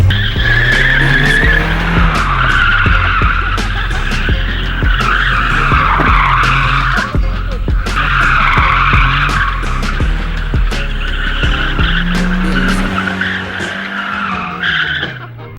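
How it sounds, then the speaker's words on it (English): Stock Nissan 240 drifting, tires squealing in long continuous howls over a loud, steady engine drone, close up with a brief dip midway before the skid resumes and then fades. "instead we drifted a stock 240"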